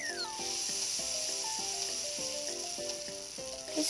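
Bacon sizzles and hisses in a pan in the video game Cooking Mama 4, a steady frying noise over repeated short game tones and chimes, with no talking.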